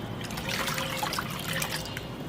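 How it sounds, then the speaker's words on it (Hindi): Neem cake liquid is poured into water, giving a steady splashing trickle that runs for a couple of seconds at close range with no talking. "इसमें से 1 मग निकालना है और 10 लीटर पानी में डाल देना है और इसको घोल लेना है"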